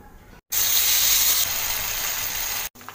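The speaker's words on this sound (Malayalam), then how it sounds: "ഇനി ചൂടായ എണ്ണയിലോട്ടിട്ട് ഫ്രൈ ചെയ്തെടുക്കാം" Battered chicken kalmas snack hitting hot oil and deep frying, giving a loud, steady sizzling hiss that bursts in suddenly after a brief gap and bubbles on evenly, close up with no talk.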